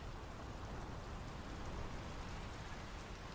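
Steady, even rainfall hisses across the scene in the video game Draugen, a faint uniform wash of drops with no voices.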